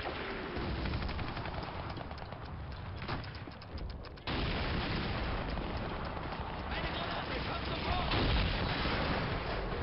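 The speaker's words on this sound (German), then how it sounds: "Zwei Granaten sind rausgeflogen" Grenade explosions in Call of Duty 2, heavy wartime battle din with booming blasts and gunfire filling the scene, a sharp burst near the middle, dense and loud throughout.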